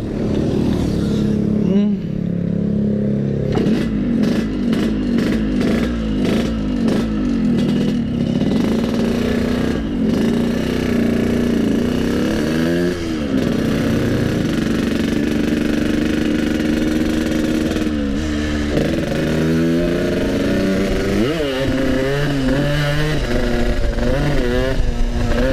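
A Yamaha RX King motorcycle's two-stroke engine idles loud and close, then revs up repeatedly in sharp bursts, falling back to idle between throttle blips, with a voice heard briefly.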